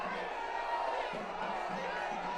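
A large crowd gathers at Prime Minister Modi's roadshow in Kochi, Kerala, a continuous dense murmur and distant cheering with a voice speaking over it throughout.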